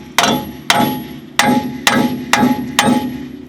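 A hammer pounds a rusted, stuck front brake rotor on a Dodge 1500, six loud metallic blows at a steady, forceful rhythm with ringing between strikes.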